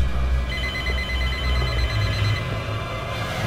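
A telephone rings in a Neapolitan-dubbed version of Scary Movie 3. A steady electronic ringing tone sounds for about two seconds over a low background hum, with no one talking.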